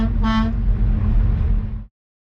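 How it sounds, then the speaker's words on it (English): A car horn gives a short, bright honk near the start, heard over the close, low rumble of a vehicle that runs for under two seconds and then cuts off into silence. "Yeah, honk the horn all you want."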